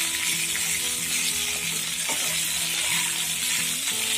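Potatoes and peas stir-fry over a high flame with a dense, continuous sizzle up close, broken by the scrape and clatter of stirring. No one speaks.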